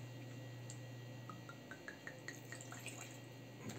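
Red wine from a Valle del Sol Ensamble bottle, Baja California, Mexico, poured into a glass: a faint, quiet trickle with small drip-like splashes over a steady low hum, no voices.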